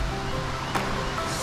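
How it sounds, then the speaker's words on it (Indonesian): A small river rushes swiftly past, giving a steady broadband wash of flowing water, close and continuous with a brief splashy surge midway. "satu sungai kecil yang airnya lumayan cukup deras juga teman-teman"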